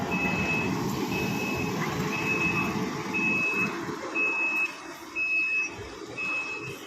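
Regular reversing beeps from a private omni bus at a busy bus stand repeat about once a second, moderately loud over the rumble of engines and crowd bustle.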